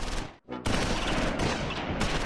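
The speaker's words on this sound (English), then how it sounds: "tank fire. Keep your heads down." Tank fire in Close Combat 4, a World War II Battle of the Bulge game: a dense, loud barrage of booming shots and crackling fire, broken by one brief silent gap, with no voices over it.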